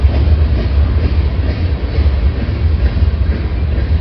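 A heavy freight train rumbling past nearby, a loud continuous low roar of rolling cars with faint rhythmic clatter.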